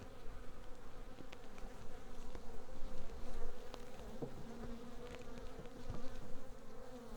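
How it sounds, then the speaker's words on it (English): Defensive honey bees buzz around an opened hive during an inspection, a steady, close insect drone with passing flybys swelling and fading over a constant hum. "They're buzzing me."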